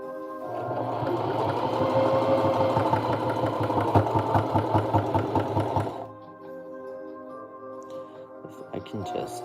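A sewing machine stitches fabric in a steady rapid mechanical chatter for about six seconds, loud and close, then stops, leaving a quiet hum and a few faint handling clicks.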